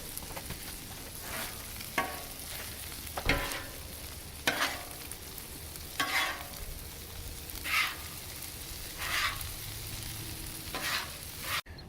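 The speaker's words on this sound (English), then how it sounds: "Let's go ahead and fold that in really well, mixing that up." Italian sausage stuffing with cheddar cheese being folded and mixed for stuffed bell peppers: repeated soft, wet squelching strokes every second or so, close and moderately loud, with no speech.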